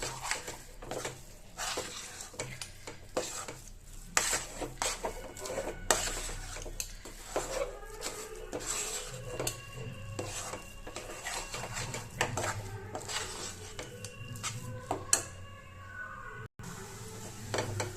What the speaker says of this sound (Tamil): இதை வந்து நம்ம நல்லா கலந்து விட்டுக்கிட்டே இருக்கணும்